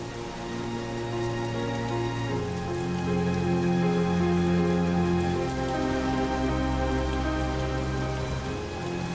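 A brief rain shower patters down, a steady wash of falling drops mixed with a sustained tonal backdrop, with no one talking.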